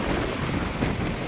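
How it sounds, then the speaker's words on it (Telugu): Strong wind gusts across a construction site during a concrete slab pour, heard as a continuous loud, rushing roar with no pauses. "ఎలా గాలి వేస్తుంది"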